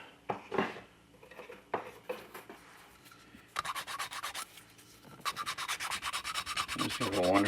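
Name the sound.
sanding a vinyl model kit part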